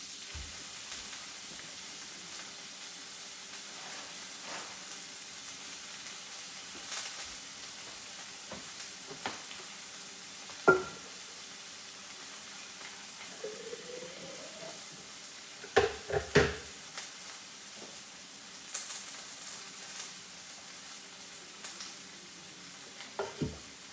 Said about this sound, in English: Saute it well. Okay, so you're just going to saute that.